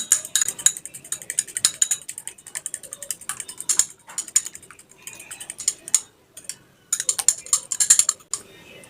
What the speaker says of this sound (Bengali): এটা ভালো করে এখন ফেটিয়ে নেবো